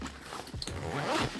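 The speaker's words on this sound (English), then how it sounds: "big horseshoe zipper" A large horseshoe zipper on a duffle bag is unzipped in one continuous rasping pull that speeds up toward the end, close and clear with no talking.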